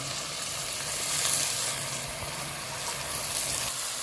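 Small white brinjals, cut, fry in a pan and give off a steady, bright sizzle that stays close and even throughout, with no talking.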